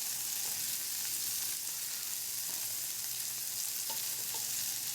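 Food sizzles steadily over the flame of a small DIY stainless steel wood gas pellet camping stove, a constant even frying hiss throughout.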